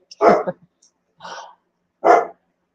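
A dog gives three short, sharp barks with pauses between them, close and clear against a quiet room.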